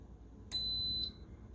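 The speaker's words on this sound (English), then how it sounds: "my Instapot just beeped, letting me know that my high pressure time is done" An Instant Pot pressure cooker gives a single shrill electronic beep of about half a second in a quiet kitchen, then a short faint second tone at the end.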